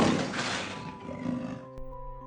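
A huge lion roaring in a children's Wizard of Oz story, one loud, raspy, drawn-out roar that fades over about a second and a half, with a brief tone of music afterward.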